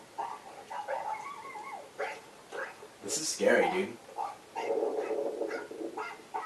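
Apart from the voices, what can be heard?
street dog barking in India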